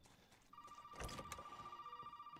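An in-game telephone rings in Resident Evil 7, a steady bright ringing tone that starts about half a second in and carries on to the end, with a burst of other game sound partway through.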